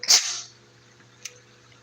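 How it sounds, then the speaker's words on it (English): A single sharp sneeze bursts out at the start, loud and close, then fades into quiet room tone with a faint low hum. "Bless my sneeze."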